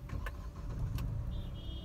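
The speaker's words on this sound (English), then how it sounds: "So to restart the vehicle, what you need to do is just clutch in" The petrol engine of a Mahindra XUV300 restarts from start-stop once the clutch is pressed, a brief low rumble with a few light mechanical clicks heard close up.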